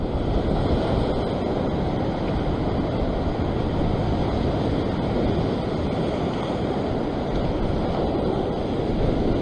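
Ocean waves wash steadily on a rocky shore during sea fishing, a continuous loud roar of surf mixed with wind buffeting the microphone, with no talk.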